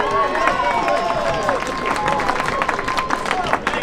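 A crowd applauds and cheers for a festival organiser at a carnival mask contest award evening, with steady clapping running throughout alongside a murmur of voices.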